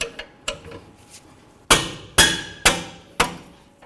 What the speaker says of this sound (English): Just give it a couple bonks with my rubber mallet to break them free.